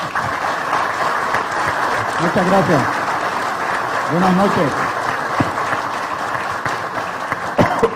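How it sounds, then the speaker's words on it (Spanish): Seminar audience at an accounting standards event clapping in a sustained crackling wash, with someone speaking over it near the microphone. "No sé si ya se escuchan los aplausos desde allí."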